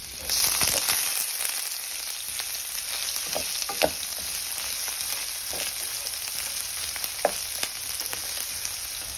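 Onion, garlic and ginger sauté in hot cooking oil, a steady close sizzle with faint scraping stirs and a couple of sharp pops, no talk over it.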